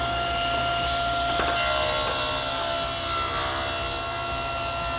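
A table saw blade spins up and rips thin strips from a wooden board, a loud continuous whining rasp with a brief harsher bite as the cut starts, heard close and alone.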